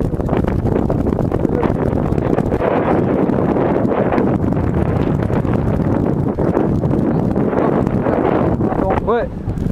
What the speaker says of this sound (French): Il y a un vent de taré.